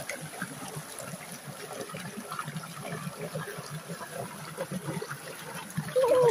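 Water trickles and splashes over rocks at a falls on Wong Lung Hang Country Trail in Hong Kong, a steady close-up babble of running water throughout with no talk.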